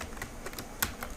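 Light keystrokes on a computer keyboard while coding in Android Studio, a quick irregular run of soft taps with one sharper click, close and quiet.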